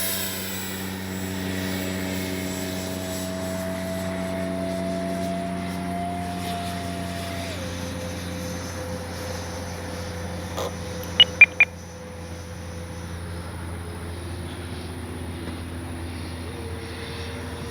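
Freewing 70mm F9F Panther RC jet running steadily at half throttle, a continuous whining drone with its pitch dropping slightly partway through and a few short beeps near the end, no talking.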